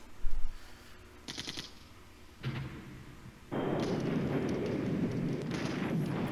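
Artillery fire and explosions in the wargame Flashpoint Campaigns Red Storm: a few muffled booming thuds and a short crackling burst, then a sustained loud rumbling blast wash that holds steady to the end.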